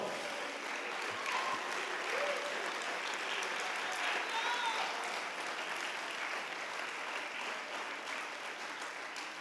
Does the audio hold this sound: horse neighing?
no